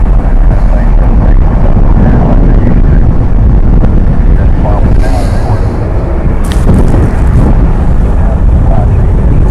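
An aircraft on the runway at DFW Airport, a steady, loud roar of jet engine noise with wind buffeting the microphone throughout, continuous and unbroken.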